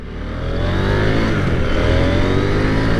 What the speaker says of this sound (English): This is a parallel twin engine from KTM, and this is kind of their middleweight bike.